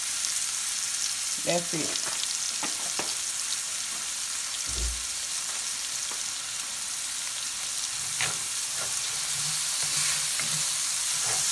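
Pork fried rice sizzles steadily in oil in a pan, a continuous broadband crackle with scattered spatula scrapes and a brief low thump; a voice speaks briefly.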